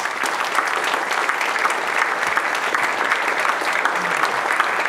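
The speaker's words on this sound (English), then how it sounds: "a warm round of applause for our confirmed seventh place" Steady, dense audience applause at a men's 50m pistol shooting final at the ISSF World Cup Final in Munich, a crowd clapping continuously at moderate distance without pause.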